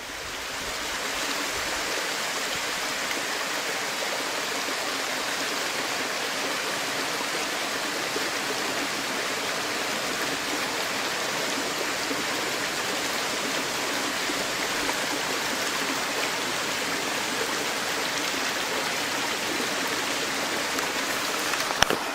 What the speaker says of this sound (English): I think that's the main tributary of Frosty Creek